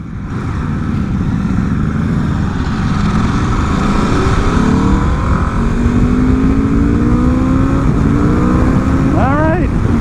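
A 2024 Aprilia RSV4 motorcycle engine drones loud and close, its pitch sliding upward through several rising sweeps, then a sharp rev climbs near the end over heavy wind noise.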